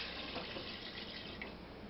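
Water poured into a pot for collard greens broth, a steady faint running and splashing stream without talk.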